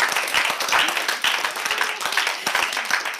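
A radio studio audience claps for a live music broadcast, steady moderate applause of many hands filling the room, with a voice faintly present beneath.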